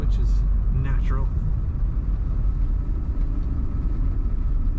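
Low diesel engine drone of a 2001 Ford F-250 Super Duty pickup on the road under a voice, steady and rumbling from inside the cab.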